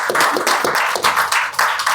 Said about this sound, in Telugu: మాతాజీ మళ్ళీ ఒకసారి క్లాప్స్ కొట్టండి